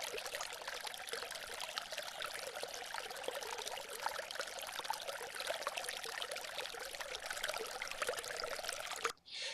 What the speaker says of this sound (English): I want to play you the sound of small drips here